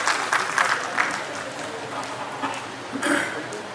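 An audience at a formal ceremony claps to welcome a doctor as guest of honour, with scattered, moderate clapping that swells and fades over a low crowd murmur.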